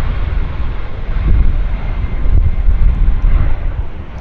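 An Air North Boeing 737-800 rumbles nearby, a loud low engine roar that swells and eases slightly over a few seconds, with no talking.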